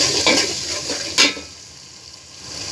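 Scraping and clinking of a utensil stirring ginger spice paste frying in a pan, with a soft sizzle underneath; a sharper scrape stands out midway.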